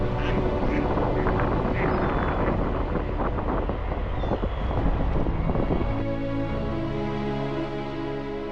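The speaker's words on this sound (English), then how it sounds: "this section of river is really tiny, it had so many birds on it." Ducks quack and birds chatter on a small section of river over a steady rush of wind buffeting the microphone, with a low engine-like hum joining near the end.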